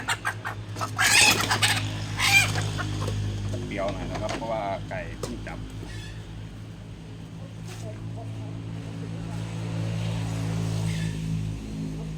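Pradu breeding hens clucking and squawking close by, in bursts of agitated calls early on that settle into quieter clucks, under a steady low background hum with someone talking throughout.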